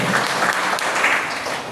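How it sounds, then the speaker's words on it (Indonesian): Church congregation at an Indonesian worship service clapping together, a loud, thick, continuous burst of many hands filling the room without pause. "Berikan tepuk tangan kepada Tuhan."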